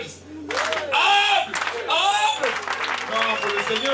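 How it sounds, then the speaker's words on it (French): A church congregation at a Christmas gathering in Owando claps in response to a call, with bursts of applause under a voice speaking over the crowd. "Applaudissez!"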